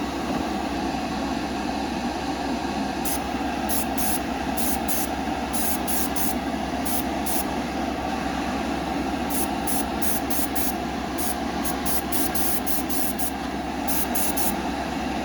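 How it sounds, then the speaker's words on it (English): Proline paint hisses from an airbrush onto a Tamiya FROG 1/10 RC car body, a steady close spray with short, rhythmic bursts of a higher hiss over an even background hum. "So we airbrushed about 5 coats of Proline paint."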